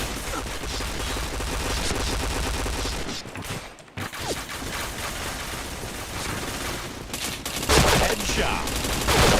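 Rapid gunfire in a shooting video game, dense bursts of automatic shots with a short lull near the middle, loud and continuous, with a voice talking faintly underneath.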